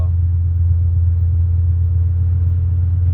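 Diesel truck crossing a highway, a heavy low engine rumble droning steadily and loud nearby for the whole moment.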